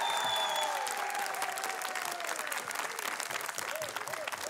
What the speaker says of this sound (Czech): Dámy a pánové, potlesk!